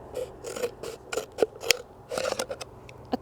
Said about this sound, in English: You're just going to take your scissors and slice